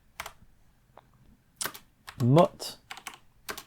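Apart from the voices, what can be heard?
typing a terminal command on a computer keyboard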